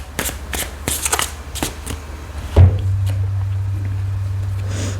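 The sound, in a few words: shuffling tarot advice cards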